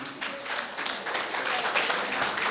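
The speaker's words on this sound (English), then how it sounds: "Let the people clap for you." Audience at a Central Bank of Liberia public awareness dialogue gives scattered, moderate clapping, fairly distant and continuous, honouring a woman asked to stand, with faint voices mixed in.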